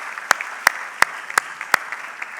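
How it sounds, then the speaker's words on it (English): A handful of sharp, separate claps at a graduation ceremony for certificate students, evenly spaced over a quiet, hissy room tone, sounding like only a few hands applauding. "let's give our certificate students a big round of applause"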